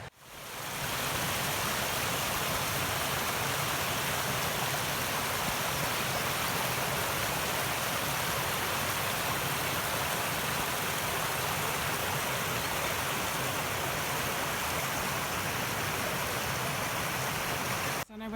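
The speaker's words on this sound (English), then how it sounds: "I know where to find running water next time." A moorland stream on Dartmoor near Sheeps Tor rushes steadily and loudly over rocks, a constant close wash of running water with no pauses and no voices.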